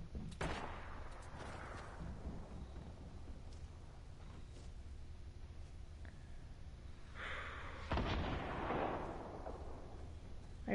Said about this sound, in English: There's somebody shooting at them.